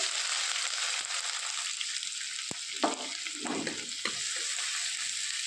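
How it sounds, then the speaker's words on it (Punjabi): Two finely chopped onions frying in a pan for a potato-spinach curry, a continuous soft sizzle broken by a few sharp spoon clicks and brief stirring bursts, no voices. "ਤੇ ਆਏ ਨੂੰ ਆਪਾਂ 2-3 ਮਿੰਟ ਵਾਸਤੇ ਭੁੰਨ ਲਾਂਗੇ"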